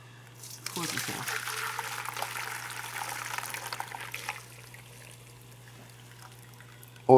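Hot broth stock poured from a pot makes a steady, close splashing stream for several seconds, tapering off, with a low steady hum underneath.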